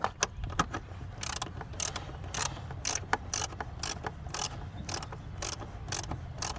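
A ratchet tightens the ignition coil bolt on a BMW 550i engine, giving close, steady bursts of rapid clicking strokes with short pauses between them and no talking.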